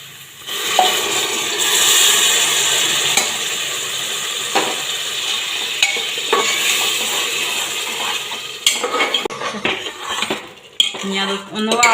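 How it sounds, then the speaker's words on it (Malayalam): Ground tomato pours into a hot frying pan of ginger and garlic for majboos rice, sizzling steadily under loud clatter of a metal spoon and pan, ending in a burst of scraping stirs. "തക്കാളി ഒഴിച്ചു കൊടുക്കട്ടെ"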